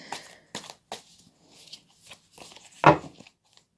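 Soft papery tarot card sounds: a few light flicks and slides spaced apart as cards are shuffled and drawn, then one sharper snap, fairly close and quiet with no talking.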